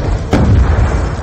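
A single grenade blast booms in Call of Duty: Black Ops 2, a sharp, loud explosion rising out of ongoing battle noise and rumbling briefly before settling.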